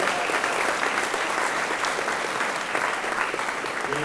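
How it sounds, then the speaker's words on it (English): A room at a high school awards ceremony breaks into continuous applause for Griffith house, a steady even wash of many hands clapping at moderate distance with no talking over it. "round of applause to all Griffith people there"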